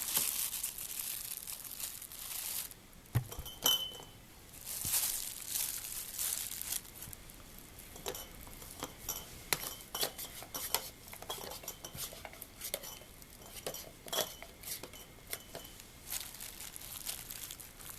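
Seasoned kalua pork is packed into glass canning jars, with close clinks of utensils against glass, sticky squishes and crinkling scattered irregularly over a quiet kitchen.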